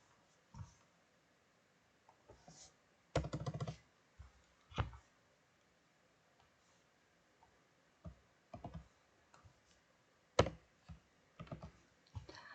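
Computer keyboard keys tapped in short, scattered bursts with a few sharper single clicks, including a firm press of the enter key; quiet, close and otherwise near silent.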